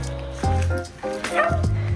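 A fluffy dog yips and whimpers in a bath, with high whiny cries and short barks in bursts, close and fairly loud, and soft background noise between them.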